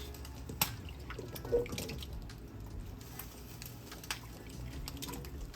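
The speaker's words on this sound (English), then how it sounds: "This pot is going to be full. You hear it popping?" A pot of neck bones, potatoes and onions simmers on the stove, giving a quiet, steady bubbling hiss broken by a few small, soft pops, with no talking.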